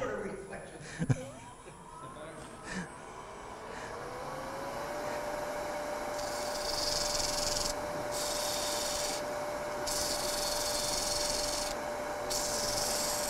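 Sanding a small pen part to shape: a few light knocks, then a power sander whirs up into a steady, close, continuous grinding whine.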